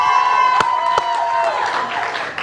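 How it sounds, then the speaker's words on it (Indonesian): A talk show studio audience applauds as Ahmad Dhani is welcomed, a short burst of clapping and cheering with a few sharp claps standing out, steady and fairly loud. "Tepuk tangan sekali lagi"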